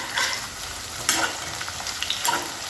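Chopped garlic sizzles steadily in hot oil in a pan while being stirred for khichdi, a continuous crackling hiss broken by a few louder scraping stirs, with no voices.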